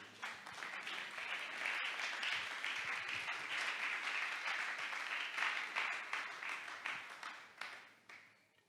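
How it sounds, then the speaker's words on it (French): A church congregation at a Sunday service bursts into sustained applause and cheering, a dense wash of clapping that holds steady for several seconds before thinning out near the end. "Est-ce qu'on peut acclamer pour la parole de Dieu?"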